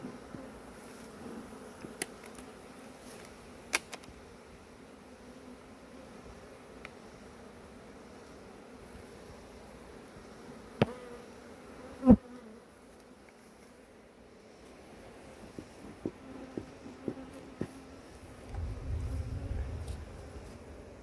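Honeybees buzz around beekeepers working a hive, a continuous faint insect drone close by with scattered small knocks and thuds, and no talking.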